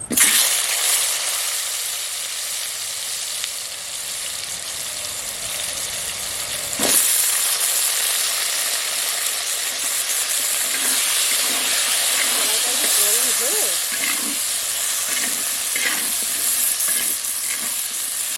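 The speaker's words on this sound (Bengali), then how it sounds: "তেলটা গরম হয়ে গেছে একদম। দিয়ে দেবো আলু।" Loud, continuous sizzling and crackling of potatoes frying in hot oil with nigella seeds and dried red chillies, swelling sharply about a third of the way in and staying intense, with a faint voice underneath.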